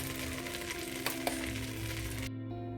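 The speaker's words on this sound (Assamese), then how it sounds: "চাউলখিনি ধুনীয়াকৈ ভাজি লৈছোঁ" Rice fries in a pan for white pulao, a soft steady sizzle with a couple of sharp clicks of stirring, then it cuts to a quieter low hum near the end.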